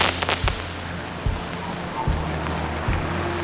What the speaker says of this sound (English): a fireworks display over the river brought a fitting climax to July the 4th